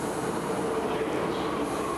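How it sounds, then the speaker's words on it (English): A passenger train that has come up from Bristol rumbles steadily at Gloucester, a faint, continuous rolling drone with no voices. "it was being formed by this train, which had just come up from Bristol"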